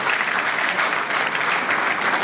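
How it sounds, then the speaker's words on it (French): An audience at a church synod gathering claps steadily, a dense, even wash of applause throughout with no pauses. "Nous acclamons quand même."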